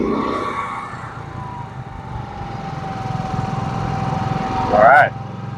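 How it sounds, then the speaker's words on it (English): Two paralleled GENMAX GM9000iED gas and propane inverter generators idle together with a steady, fairly loud engine drone and a faint tonal whine. Voices are heard near the start, and a short sharp burst rises near the end. "All right, we got both generators running now."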